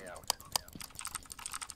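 Keyboard keys pressed in Phasmophobia, with two sharp, distinct clicks early on and lighter tapping after, quiet and close against low background murmur.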